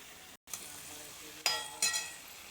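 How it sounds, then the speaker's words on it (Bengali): Shrimp stir-fried in a pan with salt, a steady soft sizzle broken by two louder bursts of frying and stirring, close by with no talk. "এবার চিংড়ি মাছটা দিয়ে আরেকটু ভালো করে কষিয়ে নেব।"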